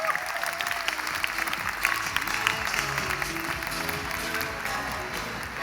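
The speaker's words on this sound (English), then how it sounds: "Can we give our friend Phil Jones a big round of applause as he hits the stage?" Audience applause at a leadership talk as a speaker takes the stage, a dense, steady wash of many hands clapping throughout with a faint murmur of crowd beneath.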